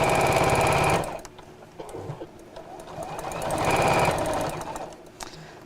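A sewing machine stitches all the way around a Christmas apron in quick, close bursts, its rhythmic clatter pausing briefly with soft handling noises before running again.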